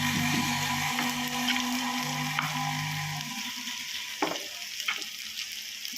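Elephant foot yam pieces frying in a pan, a steady oily sizzle over a low hum that cuts out midway, followed by a few scattered scrapes and clinks.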